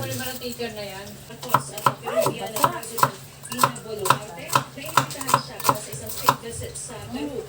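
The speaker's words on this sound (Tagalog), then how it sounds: "sunod naman ang hiwain ko ay sibuyas" A knife chops an onion on a cutting board at home while frying chicken and bean-sprout spring rolls are being prepared: a run of about a dozen sharp, evenly spaced knocks, close and clear, over a low background hum with faint voices.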